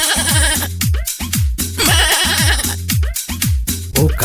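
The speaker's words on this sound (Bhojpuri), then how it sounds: "बकरी बोले।" Goat-like bleats repeat in a steady, fast rhythm within a loud comedy song, heard close and prominent throughout.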